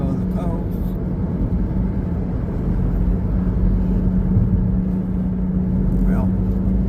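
A car cruising along the Pacific Coast Highway through Huntington Beach and Newport Beach gives a steady road rumble and engine drone throughout, with brief passing whooshes.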